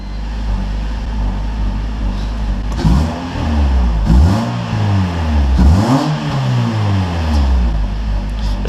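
A car engine turns over and catches, then revs up and down several times in loud, close surges before settling into a steady idle.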